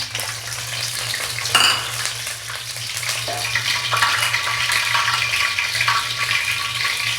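Dried red and green chillies dropped into hot oil, giving a loud, steady crackling sizzle with stirring scrapes, continuous throughout over a low background hum.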